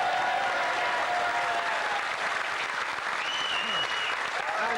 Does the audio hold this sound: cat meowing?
no